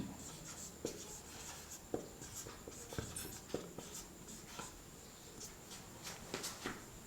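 Chalk tapping and scraping across a board as an equation is written in a lattice theory lecture, sparse irregular strokes over a steady room hiss, with no talking.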